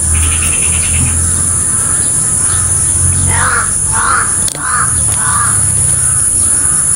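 Several crows caw in a rhythmic series of harsh calls, moderately near, over a constant loud background hiss and rumble.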